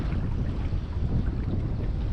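Outboard boat motor running as a low, steady rumble on the water, mixed with wind buffeting the microphone, fairly loud and continuous with no talk.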